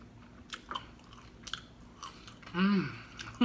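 Biting into and chewing cheesy chipotle shrimp egg rolls up close, a few crisp crunches followed by wet mouth chewing, with a short hum of appreciation near the end.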